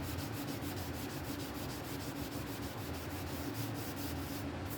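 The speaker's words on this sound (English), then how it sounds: "just sand in steps" A guitar kit body has its wood sanded with 400-grit sandpaper by hand, making close, rhythmic back-and-forth rasping strokes at a steady pace with no talk.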